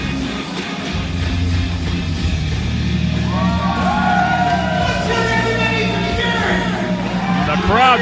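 Crowd at a live pro wrestling event cheering and whooping in appreciation, a dense sustained roar with rising yells and whistles, loud and close throughout.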